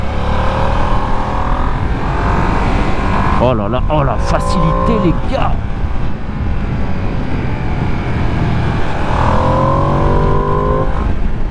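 A Ducati Panigale V2S 2025 motorcycle engine accelerates hard uphill on a test ride, a loud continuous rising engine roar with rev changes, close and steady throughout, with a man exclaiming over it.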